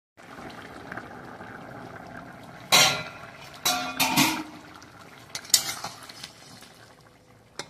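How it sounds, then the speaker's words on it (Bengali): A lid clanks onto a pot of khichuri cooking with a little hot water, several sharp metallic knocks and scrapes over a soft bubbling simmer, close by. "এবার এটা ঢেকে দেবো।"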